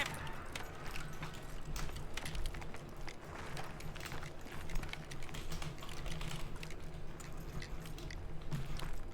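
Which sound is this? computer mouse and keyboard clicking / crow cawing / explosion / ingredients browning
computer mouse and keyboard clicking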